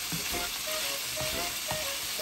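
Pork sizzles steadily in hot oil in a pan while being cooked for pork pineapple, with soft scraping stirs breaking through the constant crackle at close range.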